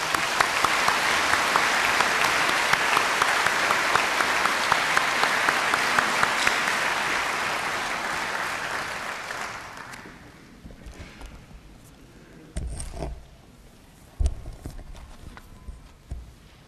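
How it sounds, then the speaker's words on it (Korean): An audience at a 1996 Korean world mission conference breaks into sustained applause to welcome a speaker. The clapping is dense and loud for about ten seconds, then fades out, leaving a few scattered knocks and thumps in a quieter room. "이 시간 이 박사님 나오실 때 박수로 우리 환영하겠습니다."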